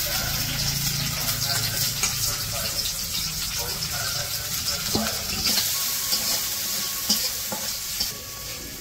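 Onions and green chillies frying in a pan for a village-style koi fish curry, giving a continuous close sizzle with stirring scrapes throughout, and some faint background voices.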